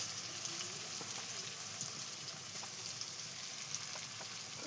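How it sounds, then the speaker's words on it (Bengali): Onions and added spices fry quietly in a pan, a faint, continuous crackling sizzle with a few tiny pops and no speech. "পেঁয়াজটা ভাজা ভাজা হলে এবার কী করবো, এই মশলাগুলো দিয়ে দেবো।"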